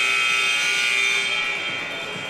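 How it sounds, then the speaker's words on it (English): A steady, harsh electronic basketball game buzzer sounds continuously, fading slightly toward the end, with faint crowd noise underneath. "Here we have a buzzer now."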